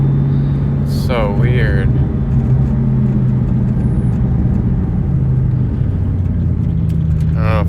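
A 2003 SVT Cobra with a supercharger boost fault bucks while driving, giving a loud, steady engine drone with uneven surges inside the car, as someone briefly speaks over it.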